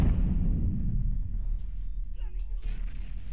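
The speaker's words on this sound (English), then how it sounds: "Can you use your mortar to hit the sniper spot?" Mortar artillery fires in the World War II strategy game Men of War Assault Squad 2: a heavy low boom rumbles and fades, and a voice speaks afterwards.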